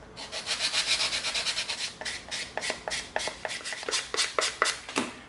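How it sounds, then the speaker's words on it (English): A sanding stick scrubs across EVA foam to clean up lines on a foam lightsaber prop, producing a close, dry rasping rub in quick back-and-forth strokes that turn into short separate passes. "we're going to come in with our sanding sticks"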